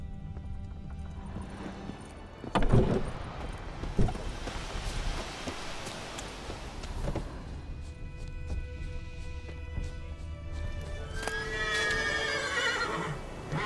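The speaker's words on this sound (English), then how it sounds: "Oh no, that's just a random horse." Hooves clop against the ground while a horse in The Witcher 3 video game whinnies with rising, wavering neighs toward the end, over a low rainy background.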